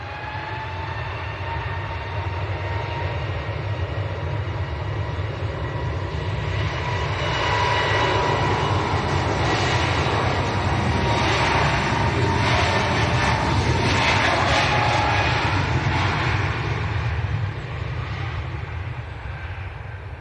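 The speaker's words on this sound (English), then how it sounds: "Turkish to Istanbul, here we go, A321neo." A Turkish Airlines A321neo bound for Istanbul roars at Manchester Airport, a broad, loud engine rumble that swells through the middle of the clip and eases slightly near the end, with no voices.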